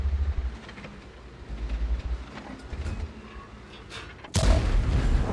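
A tank main gun fires in a video game, one sudden loud boom near the end that follows several seconds of lower engine rumble and softer distant thumps.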